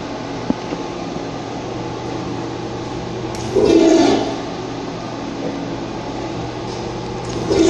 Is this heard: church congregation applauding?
no